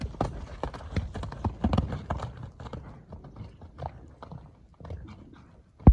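Hooves of a purebred Kyrgyz horse clip-clop in an uneven run of close, sharp knocks at a horse market, with a brief louder thump at the end.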